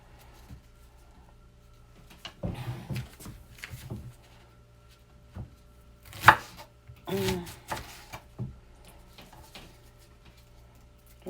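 A sharp knife cutting raw beef liver into smaller pieces on a board, a few soft, irregular wet cuts and taps spread out with quiet gaps, one crisper knock in the middle, no speech.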